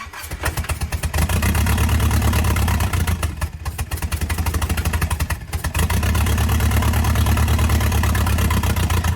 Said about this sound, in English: This obviously doesn't have an exhaust, so it's noisy